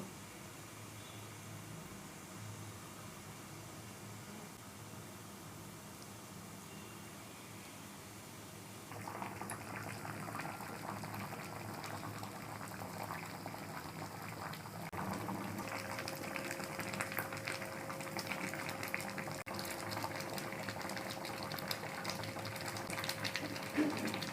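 Raw green mangoes boil in a pot for homemade Bengali morabba, a low steady bubbling hiss that grows a little louder and busier partway through, with no voices.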